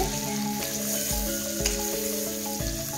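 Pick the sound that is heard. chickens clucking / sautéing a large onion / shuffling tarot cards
sautéing a large onion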